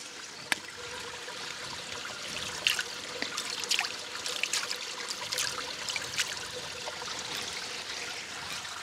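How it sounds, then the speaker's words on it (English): A fishing reel rinsed off in fresh water outdoors, a steady close trickle and splash of running water with a few sharper drips and clicks through the clip, no talking. "Just going to wash off the reel in this"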